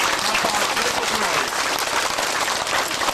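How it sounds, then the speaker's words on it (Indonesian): Audience applause at a Catholic Mass, dense steady clapping filling the space at full level for the whole stretch, with faint voices mixed underneath. "Sekali lagi tepuk tangan untuk keluarga besar"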